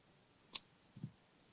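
Scissors snip through dreadlock yarn strands in a quiet room: a sharp single click followed half a second later by a softer double snip, faint and isolated.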